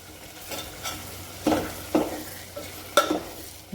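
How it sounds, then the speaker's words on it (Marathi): Peeled potatoes are stirred into a hot spice tempering for a potato bhaji, a soft background sizzle broken by several distinct scraping, clattering stirs spaced about half a second to a second apart. "बटाट्याचे हे टाकून घ्यायचे फोडणीत आणि छान मिक्स करून घ्यायचे"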